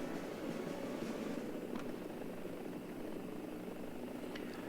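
An Mi-4 helicopter in the video game War Thunder flies with a constant, fairly faint rotor and engine drone, steady throughout with no voices.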